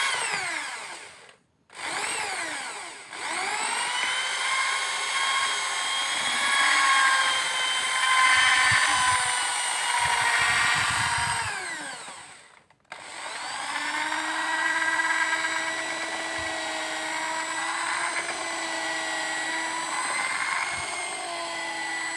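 An electric drill fitted with a mixer attachment whirs loudly and steadily as it stirs martabak Bangka dough, with its pitch shifting as the load changes and brief stops and restarts partway through.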